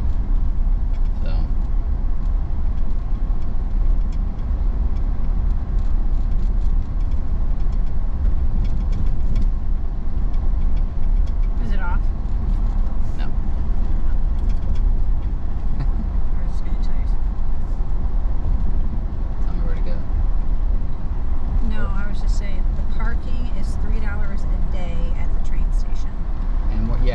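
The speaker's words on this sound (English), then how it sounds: "I'll drive us out of the campground" A car driving out of a campground toward the interstate, a steady close engine and road drone running throughout, with a person talking over it at times.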